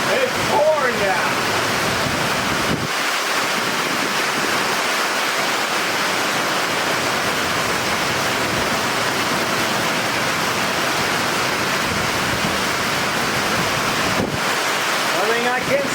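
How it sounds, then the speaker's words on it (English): Heavy rain pours down steadily outside a trailer, a dense, loud, continuous hiss and roar with gusty wind-like rushes throughout. "It's pouring down."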